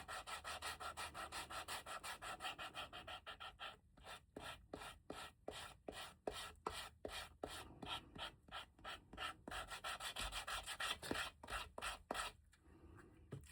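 Sandpaper rubbed against a leather bifold wallet gives a steady close scratchy rasp, settling into a run of quick rhythmic back-and-forth strokes with brief pauses and no talking.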